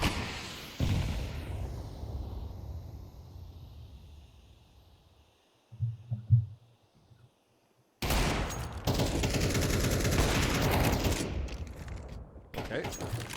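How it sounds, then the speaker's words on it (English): Gunfire in an online esports shooter match: a burst of shots fades early, short thuds follow mid-clip, then dense sustained fusillades of rapid fire resume loudly, with a commentator talking over the action. "That's a lot of shots and not a lot of damage being done."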